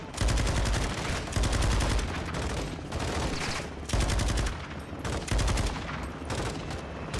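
Heavy automatic gunfire in the video game Call of Duty: Modern Warfare II, with loud, dense bursts of shots rattling almost without pause and only brief dips between volleys.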